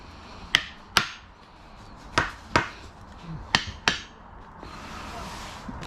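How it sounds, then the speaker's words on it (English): A handheld hammer taps six times in irregular pairs during a clamping repair job, each sharp, close strike ringing briefly before the next, with quiet room noise between. "And I'm going to take my hammer."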